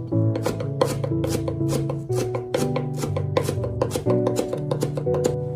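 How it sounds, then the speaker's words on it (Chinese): A kitchen knife rapidly chops peeled fresh ginger on a cutting board into fine mince, giving crisp, evenly spaced taps in quick bursts, close and clear with no talking. "准备一块去了皮的生姜，切成薄片，然后再改刀切成姜丝，最后再切成姜末。"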